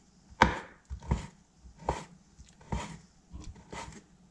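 A kitchen knife chops through rolled homemade noodle dough for soup on a cutting board, about six distinct thuds in an uneven rhythm, close and clear with no talking.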